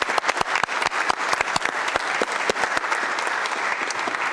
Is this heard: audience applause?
yes